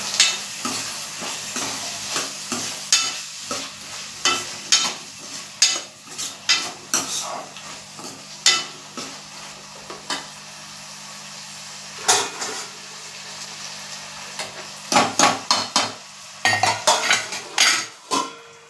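Potatoes with salt and turmeric are stirred in a pan, a metal spoon scraping and clinking against it in steady repeated strokes over a soft sizzle, with no talking.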